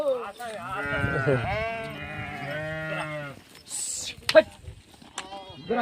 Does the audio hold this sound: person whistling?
no